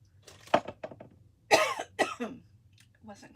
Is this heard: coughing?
yes